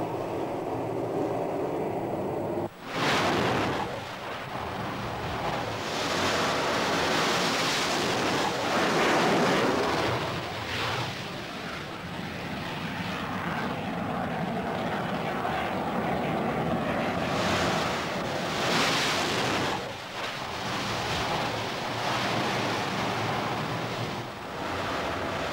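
Aboard the aircraft carrier USS Forrestal at sea, a continuous loud roar of wind and engine noise rises and falls in broad surges, with a sharp thump early on and no voices.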